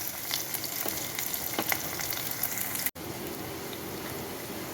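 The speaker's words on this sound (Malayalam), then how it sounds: "ഇനി സവോള ഇട്ട് ഒന്ന് വാടുമ്പം തക്കാളിക്ക് ഇടാം" Sliced onion sizzles steadily in hot oil in a pan for a prawn dish, a continuous close crackle with a brief clatter of stirring, no talk over it.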